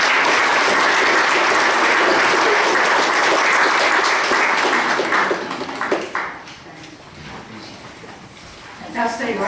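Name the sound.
audience applause at county fiscal court meeting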